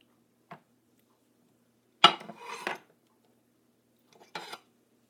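Food being set on a plate for a quick low-carb keto side dish: a soft clink near the start, then a louder clatter and scrape of dish and cutlery, and another brief clink at the end, all with no talking.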